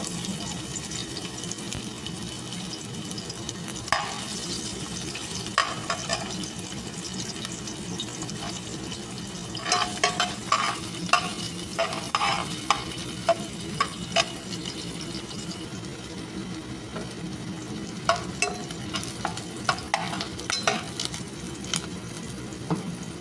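Onion sizzles and fries in a pan, a continuous soft crackle with occasional sharper scrapes and clinks as it is stirred, close and moderately loud throughout.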